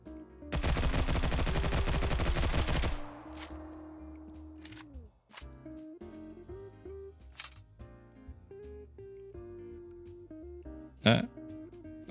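A Beretta ARX rifle fires a loud, rapid automatic burst of about two and a half seconds at a shooting range in the video game Stalcraft, followed by quieter tonal music with a few sharp metallic clicks.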